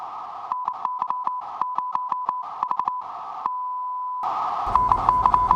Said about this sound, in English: transmitting the continuous Morse code signal alpha on the radio beacon